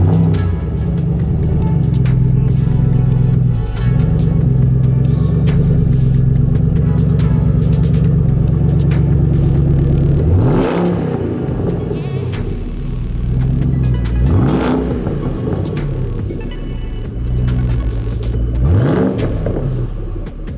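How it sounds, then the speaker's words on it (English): A 2014 Shelby GT500 Super Snake Wide Body Mustang rumbles loudly at idle, then its engine is blipped through three sharp revs that rise and fall back to a deep burble. "The sounds of the Super Snake,"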